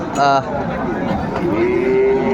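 Sahiwal bulls lowing at a cattle market in Dinajpur, with a drawn-out moo rising over a steady murmur of crowd voices and chatter.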